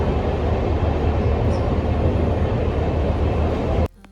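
A metro train in a Milan metro station rumbles loudly and steadily with broad roaring noise, then cuts off abruptly near the end, leaving near silence.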